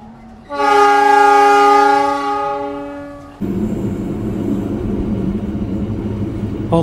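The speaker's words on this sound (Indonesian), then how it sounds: "Kereta mulai ngerem, mulai melambat, persiapan masuk terowongan." The Siliwangi passenger train sounds a long, loud harmonic horn as it heads toward Lampegan station and tunnel, then the horn cuts off into steady rolling wheel and carriage rumble.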